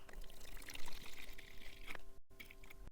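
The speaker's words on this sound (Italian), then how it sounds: "quindi mettiamo all'interno della vaschetta un poco di acqua." Water poured into the tub of a Vevor KT-185 magnetic pin tumbler, a steady close splashing pour lasting a few seconds with a brief break near the end, no talking.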